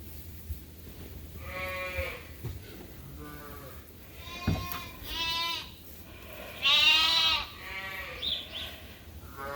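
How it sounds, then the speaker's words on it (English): Several sheep bleat close by in a pen, one after another in wavering, overlapping calls, some loud and drawn out, with quiet shuffling between them. "A lot more sheep in here today."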